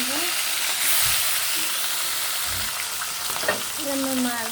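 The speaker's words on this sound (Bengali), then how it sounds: "মাছ ভাজা নেব" Rohu fish frying in a pan, a steady close sizzle of hot oil that runs through the whole stretch with a few soft stirring knocks and scrapes.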